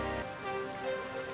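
Rain falling in the video game Master Detective Archives: Rain Code, a dense, even patter on surfaces throughout the short stretch, with soft musical tones layered over it.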